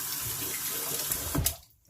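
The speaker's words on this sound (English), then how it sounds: "rinse the brush off" A shaving brush is rinsed under a running tap, giving a steady, fairly quiet hiss of water that swells briefly into a splash near the end before cutting off into silence.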